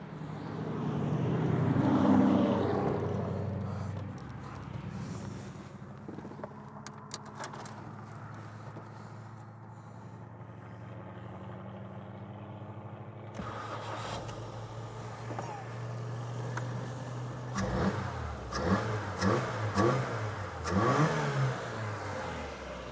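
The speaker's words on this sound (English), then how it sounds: "Let's fire up the car again, see how it will handle, and then put everything back together." A Ford Fiesta engine starts and idles, a low steady mechanical drone with a sharp shift partway through, then rising and falling revs in uneven bursts toward the end.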